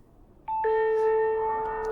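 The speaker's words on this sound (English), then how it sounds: "I pull out my echo bell" An echo bell chimes with a clear, sustained ringing tone that starts abruptly and holds steady, fairly loud against a quiet background, in a tabletop role-playing game session.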